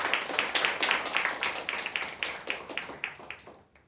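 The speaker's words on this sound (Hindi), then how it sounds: "हम लोग उनकी दो ताली बजा सकते हैं।" A small church congregation claps for graduating Bible college students, a steady run of about a dozen close, crisp claps that thin out toward the end, with no talking over them.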